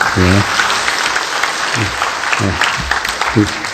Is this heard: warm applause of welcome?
yes